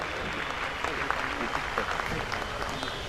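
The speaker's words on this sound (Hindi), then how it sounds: "मुख्य अतिथि जी का स्वागत जोरदार तालियों के साथ हम इनका अभिनंदन करते हैं" Audience applause welcoming the chief guest at a university foundation day celebration, a steady dense clapping texture held for the whole stretch, moderately loud with no clear voice on top.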